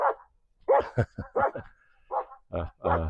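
Several dogs bark at properties in rural Italy, a string of short, sharp yips and woofs in irregular bursts, fairly close and clear with quiet gaps between them.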